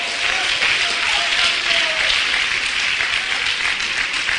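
Congregation at an evangelical church service in Venezuela applauding steadily, a dense, even wash of clapping that holds at the same loudness throughout with no voices above it.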